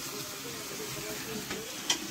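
Beans and carrots frying in a pan for fried rice, producing a soft, continuous sizzle and hiss with a single brief clink near the end.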